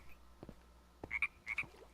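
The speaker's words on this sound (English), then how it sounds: "These frogs are really loud." Frogs croak in short bursts in the Minecraft Hexxit modpack, several loud calls with bright pulsed tones clustered toward the end, set against a faint steady background hum.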